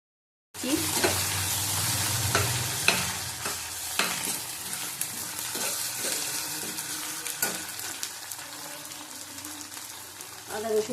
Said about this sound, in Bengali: আদা রসুন কষানো হয়ে গেছে